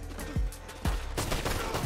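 Semi-automatic pistol shots in Red Dead Online, four sharp, separate reports spaced under a second apart, loud and close with no talking over them.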